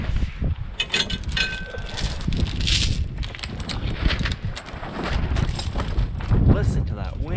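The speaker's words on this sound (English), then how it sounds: "Listen to that wind." Gusty wind blowing across a high, dry outdoor farm site, a continuous broadband rumble and rushing that swells and buffets throughout, loud and close as it strikes the microphone.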